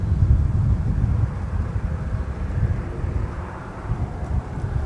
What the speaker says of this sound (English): We've also got an A321-200 navigating towards the threshold of runway